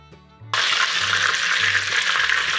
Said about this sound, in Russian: Перевернем куски и обжарим дичь с другой стороны.